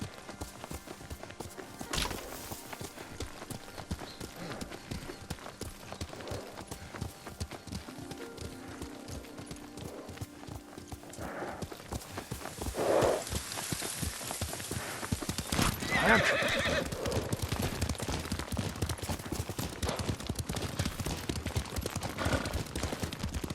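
A horse ridden in the Ghost of Tsushima video game, its hooves clip-clopping in a steady rhythm with occasional whinnies and game sounds, under characters speaking.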